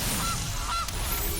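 A Gilded Goose card in Magic: The Gathering Arena gives a couple of short, nasal honks over a soft game backdrop.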